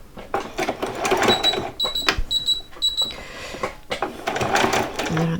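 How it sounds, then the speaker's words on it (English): A sewing machine stitches fabric for Christmas pajamas in short bursts of rapid mechanical whirring, stopping and starting with brief pauses between runs, close by and fairly loud. "I'm going to do a few stitches forward, but I want to keep that on that 1/4 inch line."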